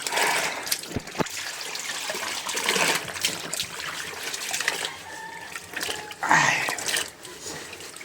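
Laundry rinsed by hand in water, with splashing, trickling and sloshing across the whole stretch and louder gushes near the start and end, heard close up and with no talking.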